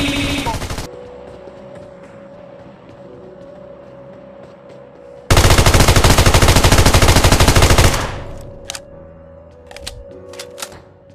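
A FAMAS rifle fires in PUBG Mobile: a short burst at first, then a long, loud, rapid stream of close automatic gunfire lasting several seconds, followed by scattered single shots and clicks over a steady game hum.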